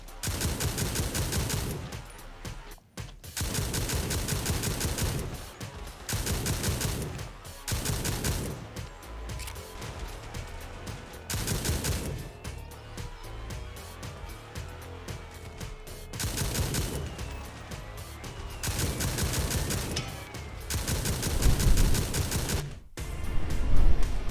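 Bursts of rapid automatic machine gun fire in the video game World War Heroes repeat in loud stretches separated by brief pauses, with crackling impacts and echoing shots throughout.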